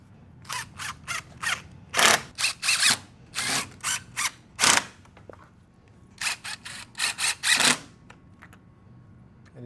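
Screws are driven with a power driver into a clamped cellular PVC window surround, heard as a series of short, loud whirring bursts in quick succession, a pause, then another cluster of bursts, close by.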